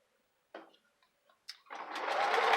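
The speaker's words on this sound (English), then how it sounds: "So now we'll just stop up here, back stitch," A sewing machine back-stitching through a junk journal: a few short taps and whirs, then a steady, loud, close mechanical hum as the needle runs continuously.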